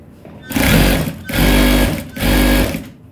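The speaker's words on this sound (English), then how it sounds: "Then you're going to go ahead and sew it." Sewing machine stitching folded boxer shorts fabric while garments are sewn for bulk sale, running in three loud bursts of steady motor whirring and needle clatter with short pauses between them.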